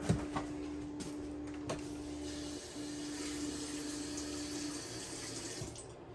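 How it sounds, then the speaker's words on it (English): A paintbrush is rinsed in water while painting, with soft swishing and running water under a steady low hum and a few light knocks, quiet and close. "pull out the lighter blue, wash my brush"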